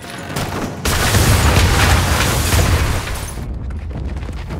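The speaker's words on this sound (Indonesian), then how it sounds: "bom panci yang sudah dipersiapkan Solotov sebelumnya meledak dan membuat Isaac terpental." A pressure cooker bomb blasts in an action film, a sudden loud boom followed by roughly two seconds of heavy rumbling and crackling debris that then settles into a lower, fading roar.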